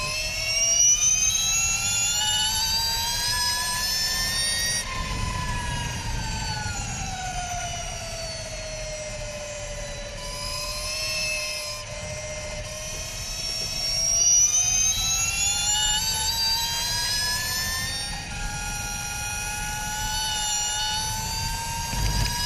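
Motorcycle from an Italian racing video game riding over the inner kerb, its engine note a loud sustained whine rising and falling through gear changes, with a steady rumbling buzz underneath and no talk.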